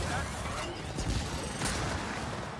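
Gunfire in the Gears of War 4 video game: dense, noisy bursts of shots rattle under continuous battle noise, with a couple of heavier thumps standing out at a moderate level.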